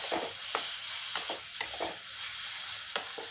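Chicken patty filling with chicken masala and Kashmiri chilli powder frying in a pan on a gas stove, a soft continuous sizzle broken by a few light scraping taps of a spoon, quiet and close, nobody talking.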